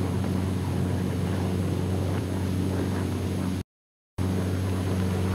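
A 1943 P-47 fighter's radial engine drones steadily in cruising flight, a constant loud propeller-driven roar that holds even, broken only by a brief dropout of total silence partway through.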